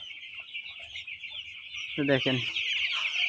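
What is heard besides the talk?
broiler chickens clucking on a farm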